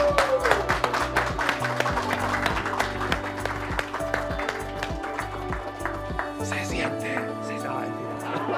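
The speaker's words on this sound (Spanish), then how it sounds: "Un aplauso por eso." Audience applause at a school community event, steady dense clapping over music with a sustained tonal bed, continuing throughout before easing slightly near the end.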